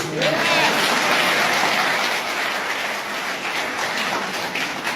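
A large crowd applauding at a public rally in Pakistan, a steady dense wash of clapping that carries on unbroken throughout.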